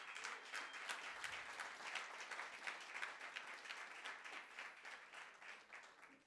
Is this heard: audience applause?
yes